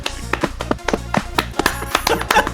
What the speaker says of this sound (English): I'm just beating my chest up right now to clap for you